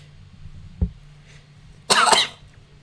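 A single sharp, close cough from a person, preceded by a small throat sound, standing out against quiet room hum.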